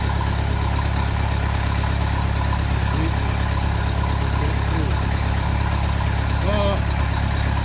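A farm tractor idles close by with a steady, low, throbbing rumble throughout, and a voice is heard briefly over it near the end.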